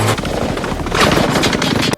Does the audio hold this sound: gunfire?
yes